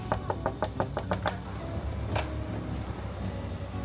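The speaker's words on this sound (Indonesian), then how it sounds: "Tadi ketok-ketok pintu agak keras" Someone knocks hard on a house door in Indonesia, a quick run of about eight sharp raps followed by a single later knock, fairly close, amid a low background rumble.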